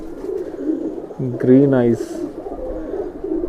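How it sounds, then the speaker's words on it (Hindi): Green-eyed Madrasi pigeons giving a single short, throaty coo that rises and wavers, heard close by under someone talking. "यहाँ आपको मिलेंगे हरी आँखों के फुलसरे कबूतर"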